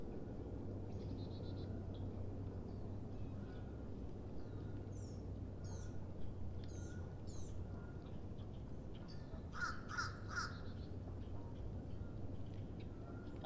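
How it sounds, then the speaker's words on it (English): Scattered bird calls and chirps ring out over a steady low rush of running water, with a brighter cluster of calls partway through. "listen to the sound of the water and the birds"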